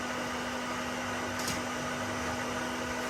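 Batter for a simple poor man's pie is whisked, heard as a steady, even mechanical whirring drone that is moderately loud and runs without a break.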